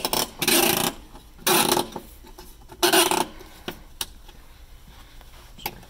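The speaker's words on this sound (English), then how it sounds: "putting the speaker in to the trim ring, turning clockwise, up, twist, click, and lock" An Adept Audio speaker is twisted into its patented trim ring: three loud, rasping friction bursts in a steady rhythm, then a few soft clicks and ticks as it locks in place, close up with no talking.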